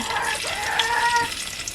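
Steady sizzling of garlic frying in hot oil in a pot on a wood-fired clay stove, with faint clinks and stirring, no voices.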